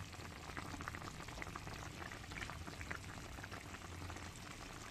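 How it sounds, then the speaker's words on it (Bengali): Fish curry boiling in a pot, a steady close bubbling and simmering hiss that continues evenly for several seconds without any voices. "কত সুন্দর ফুটে গেছে দেখুন।"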